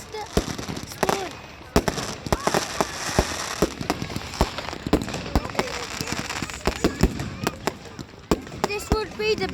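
A dense run of fireworks pops and bangs at a display, sharp reports following each other rapidly with crackle in between and voices faintly underneath.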